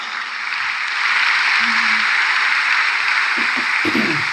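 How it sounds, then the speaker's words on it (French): A church congregation applauding lawyers, a broad steady wash of clapping from a crowd that swells and holds, with a few voices cutting through near the end. "acclamons les avocats"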